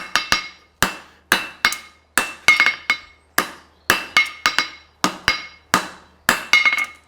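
Hammer blows ring out on a Mustad hind preventer horseshoe as a heel cork is forged, about fourteen sharp metallic strikes in an uneven rhythm, some landing in quick doubles, loud and close with no voices.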